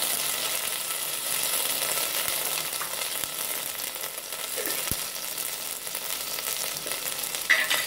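Ginger garlic paste sautéing with shallots in a pan for mushroom salna, a steady close hiss of frying oil with a few faint ticks of a spatula, even and unbroken throughout with no voices.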